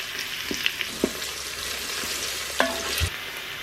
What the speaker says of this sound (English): And I'm going to pop my onions in here. And I'm just going to saute those for 2 or 3 minutes.